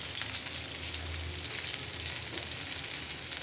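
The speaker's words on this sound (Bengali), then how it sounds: "চুলাতে পেঁয়াজ ব্রাউন করে রেখেছি" Browned onions frying in a pan on the stove, a steady, dense sizzle that stays even and fairly loud throughout, heard close with no voices.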